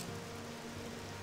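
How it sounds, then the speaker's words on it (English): Steady rainfall in the game OpenMW, a faint, even patter of drops forming a continuous wash with no voices over it. "I know it's raining, but we'll get out of it eventually."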